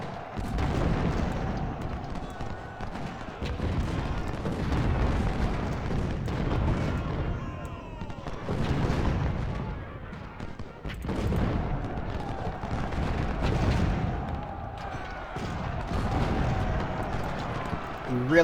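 Artillery fire and explosions in the Civil War strategy video game Ultimate General: Civil War, deep rolling booms swelling and fading in repeated waves, distant and rumbling, with a voice talking over them.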